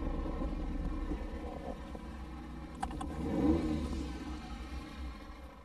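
A Ferrari Mondial drives on a course, its engine a steady mid-pitched drone that swells briefly as it revs, heard a little way off with no talk.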